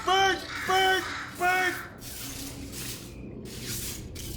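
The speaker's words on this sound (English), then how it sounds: "that's probably the bird in it that laid the eggs" A bird in the Portal 2 video game lets out three loud, harmonic squawks in quick succession, then quieter hissing and rustling follows with no further calls.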